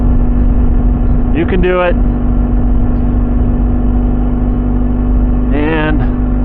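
The MechanicO car's engine holds a steady low drone at 10% throttle, constant and loud, while brief spoken words cut in twice over it.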